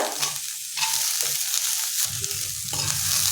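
Cluster beans tipped into a hot tempering and stirred, a close sizzle broken by scraping stirring strokes that rise and fall, with a louder burst of frying near the end and no voices.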